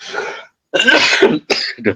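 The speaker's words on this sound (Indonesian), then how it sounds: "Batuk saya." A person gives three coughs: one rough cough, then after a short pause a longer harsh cough, followed by a quick final pair of coughs, close and clear with no background noise.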